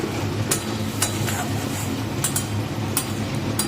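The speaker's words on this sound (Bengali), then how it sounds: "এবার এই মশলাটা কষাবো।" Cumin-laced spice paste stirs and fries in a pan, a steady low sizzle with periodic sharp scrapes and clinks of the spoon against the pan, close and continuous.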